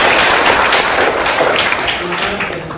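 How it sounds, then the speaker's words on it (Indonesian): Applause from a school class after singing a national song together, dense clapping filling the clip with a voice or two faintly mixed in. "cukup beri tepuk tangan untuk kita semua."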